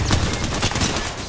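Rapid gunfire rattles in the Apex Legends video game as a player shoots at a teammate. Dense bursts of shots pound close and loud through the whole moment.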